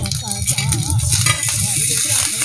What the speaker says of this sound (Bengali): মা ওই পিঠটাও ভেজে নিচ্ছে।